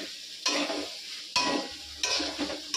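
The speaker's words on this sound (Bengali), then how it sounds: "তো এটা একটু ভাজা ভাজা করে নিই।" Food frying in a pan, with three bursts of stirring and sizzling spaced about a second apart over a low steady crackle, close by.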